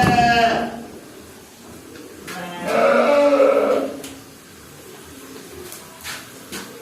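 A sheep kept in a pen with pigeons, fed a grain mix of corn and bran, bleats twice, each call wavering and close, with quieter bird cooing and rustling around it.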